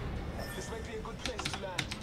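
Computer keyboards and mice clicking, a quick run of light taps and clicks under ongoing talk and game sound.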